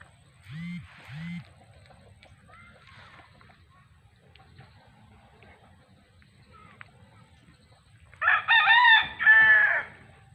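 Chickens in a backyard coop: two short low clucks near the start, scattered faint rustles and chatter, then a loud rooster crow rings out close by near the end.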